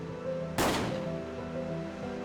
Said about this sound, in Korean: 이곳에서 날카로운 총성이 울려 퍼졌습니다.